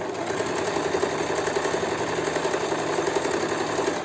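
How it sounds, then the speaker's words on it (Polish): A sewing machine runs steadily and close by, with a fast, even whir as it stitches a tulip decoration onto a bag, and no pauses or talk. "na wbitej igle obracam i kontynuuję szycie do końca"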